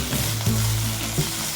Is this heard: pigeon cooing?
no